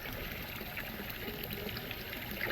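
Water runs steadily into a koi pond to top up the level during filter cleaning, a continuous close splashing pour with no talk.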